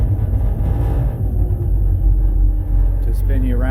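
Twin engines of a Duckworth 28 offshore boat run together as the hull spins around, a steady loud low rumble throughout with a brief rising whine near the end.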